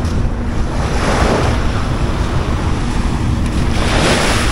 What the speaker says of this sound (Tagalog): parang nakaka-relax talaga pag nakakarinig ka ng hampas ng alon